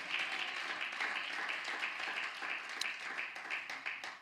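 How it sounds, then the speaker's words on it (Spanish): A church congregation applauds during a retreat service, a continuous faint patter of many clapping hands heard from a distance with no voices over it. "Alguien debe darle un aplauso fuerte al Señor."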